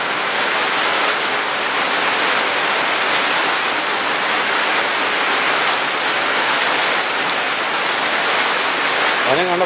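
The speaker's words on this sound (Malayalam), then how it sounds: "മഴ പെയ്യാണ്" Rain falls in Kerala during June. It makes a loud, dense, continuous hiss that fills the whole stretch evenly, and a brief tonal sound breaks in at the very end.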